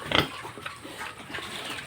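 A pig on a small Philippine hog farm gives a short, loud grunt or squeal near the start, followed by quieter pen noise and low rustling for the rest of the stretch.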